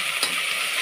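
Ginger fries in hot oil in a short, steady, close sizzling hiss with a faint stirring scrape.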